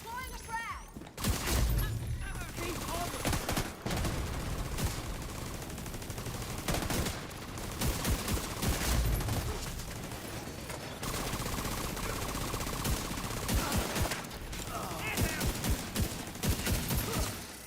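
Dense gunfire in The Division 2, with rapid automatic bursts and repeated loud shots across a chaotic firefight, and voices talking in between.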